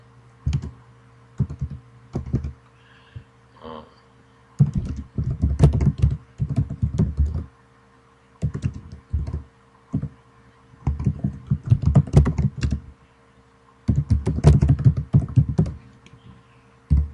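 Typing on a computer keyboard comes in close, crisp clusters of key clicks separated by short pauses while a description is entered for an online resource. Nobody speaks.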